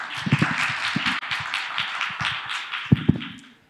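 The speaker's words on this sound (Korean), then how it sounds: "여러분 박수로 환영해 주시기 바랍니다" Audience applause welcoming the CEO of Amogy, an ammonia-to-hydrogen startup, to the stage at a Korean business forum, a steady dense clatter of many hands with a few sharper claps standing out near the end.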